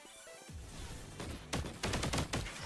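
Gunfire in the Punishing Gray Raven video game: rapid, loud bursts of shots that build into dense, overlapping volleys after a brief quieter lead-in, with no talk.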